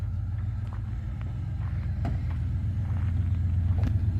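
Two Ford Bronco trucks, one with a freshly freed rusted engine, run and drive, giving a steady low engine rumble with faint clicks and knocks over it, close and continuous.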